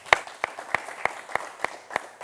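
Sparse, evenly spaced handclaps, about eight sharp claps in a steady rhythm, fairly faint, with no voices over them.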